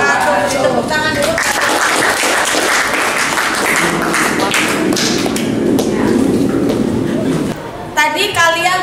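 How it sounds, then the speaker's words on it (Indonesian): Students in a classroom lesson on culinary business clap together for several seconds, a loud, busy patter of hands, with a voice talking briefly before and again as the clapping ends. "Tepuk tangan dulu."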